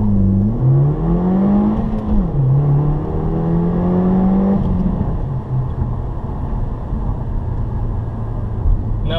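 A 2015 Subaru WRX accelerating hard, its engine note climbing in pitch through the gears with a brief dip at a shift, then settling into a steady road rumble heard from inside the car.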